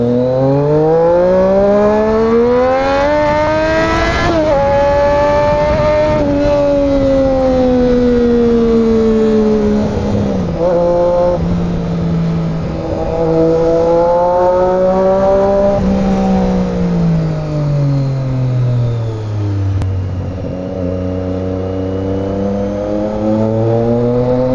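A Triumph Daytona 675 sport motorcycle's engine roars loud and close while riding over a flyover, its pitch rising and falling through repeated gear changes and throttle surges, with no talk over it.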